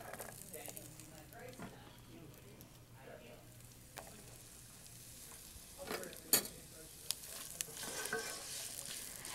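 Chopped onions go into hot oil with black cardamom and bay leaves, a soft steady sizzle with occasional stirring clicks and scrapes, faint and close.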